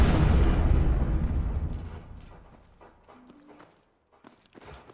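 A big grenade blast in Fallout 4 opens loud and close, then rumbles and decays over a few seconds into near silence, with faint scattered thuds afterward.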